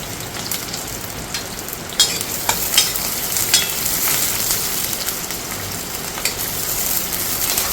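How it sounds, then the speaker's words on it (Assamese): Onions and green chillies fry in hot oil in a pan for an Assamese-style mutton curry, giving a steady, close crackling sizzle with a few sharper pops and stirring scrapes throughout. "তেল গৰম হৈছে এতিয়া মই ইয়াতে পিঁয়াজখিনি দিওঁ পিঁয়াজ আৰু জলকীয়াকেইটা দি দিওঁ"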